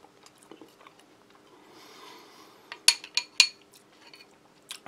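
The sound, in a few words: biting and chewing a biscuit with cutlery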